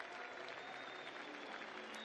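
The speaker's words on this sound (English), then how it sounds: "Haruna gets a nice round of applause for the Bobcat fans here in Worthington Arena" Bobcat fans applaud in Worthington Arena at a Montana State college basketball game, a steady wash of crowd clapping that fills the whole moment without a break, loud and continuous, with no distinct voices standing out.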